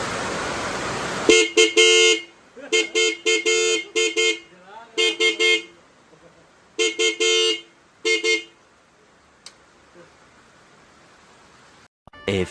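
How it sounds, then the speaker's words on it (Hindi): Motorcycle horn honking in heavy rain, a series of short loud blasts in irregular bursts, some doubled, separated by pauses filled with soft rain hiss. "एक बार और आप लोगों को सुनाता हॉर्न की आवाज़।"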